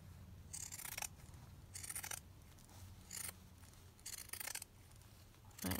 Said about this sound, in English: So I'm just going to cut off the seam here.